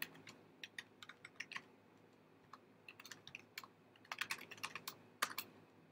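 Code typed on a computer keyboard while writing a TensorFlow summary file, heard as quiet, close, irregular key clicks in scattered runs, with a brief pause in the middle and a denser flurry toward the end.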